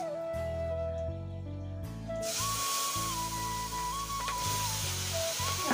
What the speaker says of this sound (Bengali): সুন্দর করে লাল করে ভেজে নেবো পটলটা।